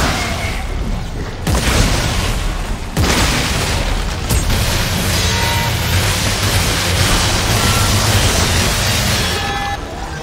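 Heavy gunfire from a sci-fi horror shooter, Dead Space 3, booms in dense, loud bursts with a few short pauses, layered over rumbling game effects.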